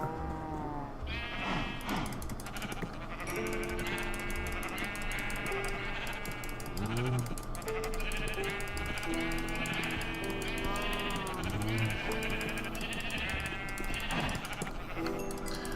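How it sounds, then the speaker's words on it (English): Sheep bleat again and again in a Minecraft game, the wavering calls repeating at irregular intervals over a dense, steady bed of game music and ambience. "you'll notice that there are sheep and cows in here"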